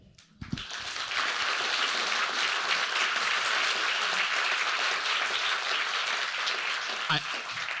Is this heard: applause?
yes